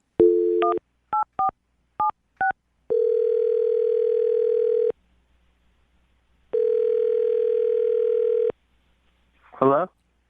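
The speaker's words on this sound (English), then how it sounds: "I'm going to dial the phone number right now and get him on the phone." A series of short touch-tone beeps, then two long steady ringing tones separated by silence, clear and close, ending with a brief voice.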